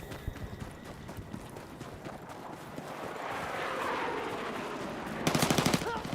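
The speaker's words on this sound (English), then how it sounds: "Where are you shooting at me from?" Video game gunfire rattles in fast repeated shots, with a loud rapid automatic burst near the end over a steady background of game noise.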